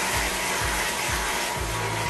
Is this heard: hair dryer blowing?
yes